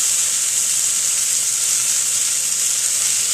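Salmon crisps skin-side in a frying pan, hissing and sizzling in a loud, continuous, even wash of close-up frying noise with no voices.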